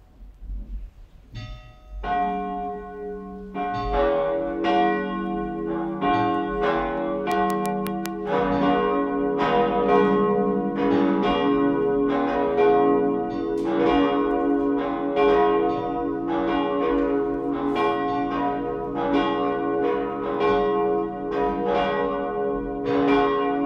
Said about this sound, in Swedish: Låt oss nu lyssna till klockringningen.